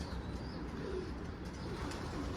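Turtle doves coo softly amid steady background noise, a faint low murmuring call drifting through a continuous outdoor hiss.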